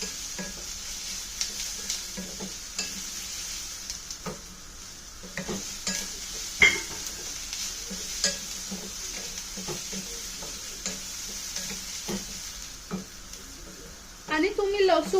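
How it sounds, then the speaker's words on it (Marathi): Chopped onions sizzle steadily in a pan for misal pav while a spoon scrapes and stirs them at irregular intervals, with a louder clatter of the utensil near the end. "कांद्याचा एक कलर आपल्याला गोल्डन ब्राऊन होईपर्यंत चांगलं शिजवून घ्यायचंय"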